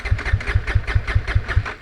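A Bajaj Dominar 400 motorcycle engine idles close by, thumping in a quick, steady, evenly spaced rhythm of loud low pulses with no voices.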